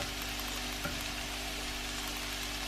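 Chicken pieces frying in a pan for a chicken and leek pie, a steady, dense sizzle with one faint tap, close and continuous.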